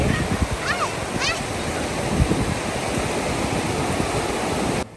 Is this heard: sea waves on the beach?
yes